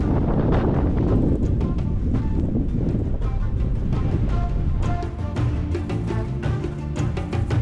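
Wind blowing hard over desert dunes in Mauritania during a sandstorm, a loud continuous roar buffeting the microphone, with no talk.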